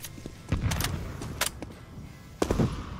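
Gunfire in the video game Counter-Strike 2 comes as a few sharp cracks and short bursts at moderate distance, with quieter game ambience in between and no talk.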